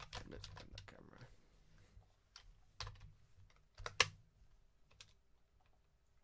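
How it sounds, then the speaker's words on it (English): Soft computer keyboard typing close by, scattered keystrokes in short bursts with pauses, quiet background otherwise. "I'm really conscious of the fact that you can probably hear my keyboard."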